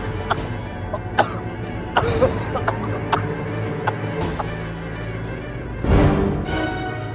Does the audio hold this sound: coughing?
yes